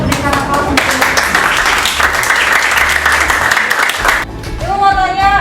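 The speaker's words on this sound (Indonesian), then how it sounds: "kita berikan aplaus untuk Ibu" Audience in an Indonesian school classroom claps together during a mathematics lesson, a dense, steady burst of applause lasting about four seconds before fading, with voices speaking over it at the end.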